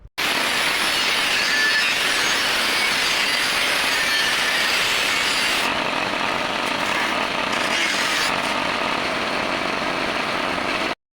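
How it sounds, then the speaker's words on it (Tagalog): An angle grinder cuts a wooden fascia board with a continuous loud, harsh whirring roar that holds steady for about eleven seconds, dipping slightly in pitch partway through before stopping abruptly. "ikakat natin siya gamit ang ating angle grinder"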